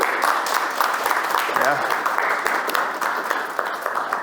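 Audience applause for the staff being introduced at a teacher academy event, steady broadband clapping throughout, with a brief spoken word over it.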